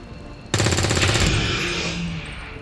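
Loud weapon fire in XCOM 2 bursts in suddenly as a rapid burst of shots, then trails into a long fading rumble, with no talking over it.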